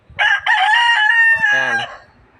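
A fighting stag rooster crows loudly and close, one full cock-a-doodle-doo with a strained, drawn-out ending, then quiet with faint background noise.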